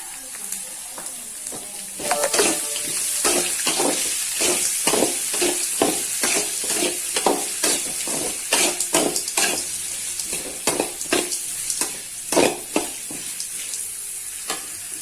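Finely chopped onions stir-fry in a pan for cassava adai, with repeated scraping and clinking strokes of a spoon against the pan over a steady close sizzle.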